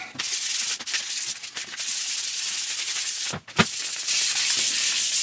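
A guitar neck being sanded with 320-grit sandpaper, giving a steady hiss of back-and-forth rubbing strokes, close and continuous, with a brief pause partway through.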